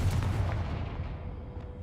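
A Confringo explosive spell in the game Hogwarts Legacy: a deep, rumbling boom that starts loud and close and slowly fades over a couple of seconds.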